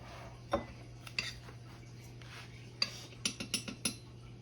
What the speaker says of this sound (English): I just kind of mix it in there just like that